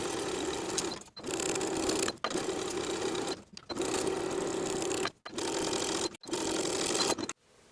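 A sewing machine stitches the pressed-up hem of a pair of high-waist barrel pants in five or six close, steady whirring runs, each broken by short pauses, with no talking.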